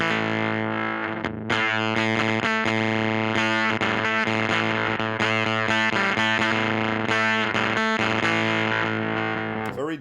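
Heavily distorted electric guitar through a Dr No Evil Motherfuzzer fuzz pedal, thick and buzzing with a 60s tone, playing continuous chords and notes for several seconds, loud and close with no talking.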